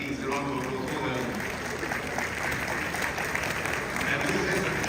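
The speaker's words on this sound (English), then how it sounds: "round of applause for them." An audience at a centenary celebration of a king's return from exile gives a round of applause, a continuous loud wash of clapping with crowd noise.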